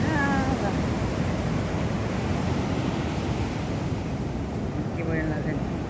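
Sea waves on the shore at night beside a beach bonfire, a steady broad wash of surf and wind rumble close to the microphone, with someone speaking faintly over it.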